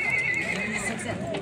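A blue-grey horse about 1.65 m tall whinnies close by at a livestock market, with hooves clip-clopping alongside and people talking throughout the short burst.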